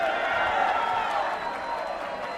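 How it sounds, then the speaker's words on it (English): Crowd yelling and cheering at a Vale Tudo fight in Brazil, a steady broad roar of many voices filling the arena, continuous and fairly loud throughout. "You could hear the crowd yelling as well"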